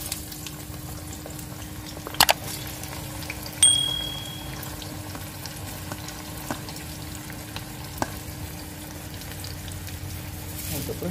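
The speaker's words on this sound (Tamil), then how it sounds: "போட்டுட்டு நல்லா ஃப்ரை பண்ணிக்கணும்" Onions and curry leaves frying in oil with fenugreek for a prawn thokku make a steady, quiet sizzle throughout, broken by a few sharp clinks and a brief metallic ding, with no talking.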